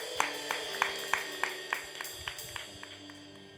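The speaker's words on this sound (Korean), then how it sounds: "찬양과 기도를 받아주신 주님께 영광의 박수 올려드리도록 하겠습니다" A small church congregation gives a round of rhythmic applause at a Sunday afternoon service, with evenly spaced claps that fade slightly toward the end over a faint sustained tone.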